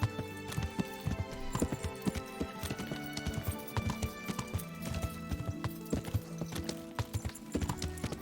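Horse hooves clip-clopping in Kingdom Come: Deliverance, a steady run of close, distinct strikes that approach over a tonal in-game music bed, with an occasional faint whinny.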